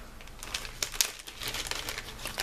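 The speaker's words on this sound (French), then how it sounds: "Je vais ouvrir ce petit sachet." A small plastic sachet from an arts and crafts kit being torn open up close, a quiet burst of crinkling and rustling plastic with a couple of sharper crackles and no talk.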